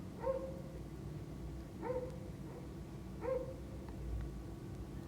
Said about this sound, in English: He's barking every day.